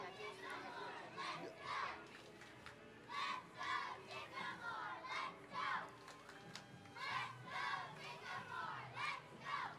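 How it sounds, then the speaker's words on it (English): A youth cheer squad chants and shouts in rhythmic bursts at a Christmas parade, the group voices rising and falling repeatedly amid crowd noise. "this is a new cheer squad that likes to spread joy through cheering."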